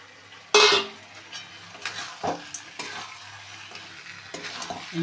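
Fish heads dropped into a pan of cooked-down spice paste with tomato, a loud splashing sizzle at the start followed by intermittent frying crackle and stirring scrapes, close up.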